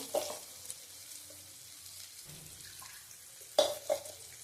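Mustard seeds drop into a pan of sizzling bean curry, giving a steady low frying hiss with a faint crackle and sharper spatters near the end.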